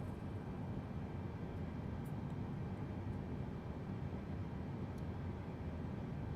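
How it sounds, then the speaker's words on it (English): A Boeing 717-200 auxiliary power unit in Microsoft Flight Simulator 2020 produces a steady, dense low rumble that holds at constant strength, with faint high clicks now and then. "I can hear the APU spooling up"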